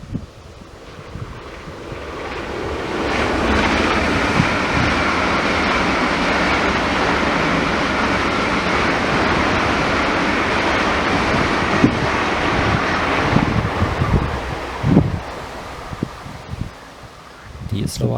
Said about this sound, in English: the next ICE was set up to pass my location on its way to the south